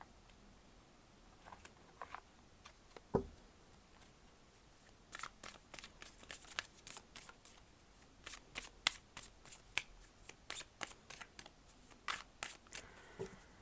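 A Universal Tarot deck is shuffled by hand in irregular bursts of soft, quick card flutters and snaps, close up and quiet, with short pauses between the runs and no speech.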